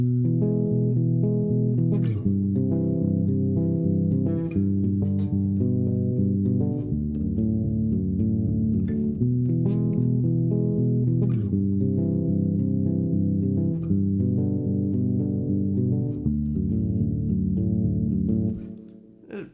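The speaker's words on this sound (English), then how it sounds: "These are all major chords." Strummed guitar chords move through a bright, steady progression, ringing continuously for several bars before fading at the end, with no talking.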